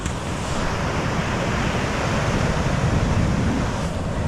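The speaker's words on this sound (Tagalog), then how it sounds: "Sobrang lakas kasi ng alon eh." Strong sea waves surge continuously along a shore, a loud, dense roar of surf with wind buffeting the microphone and no pauses.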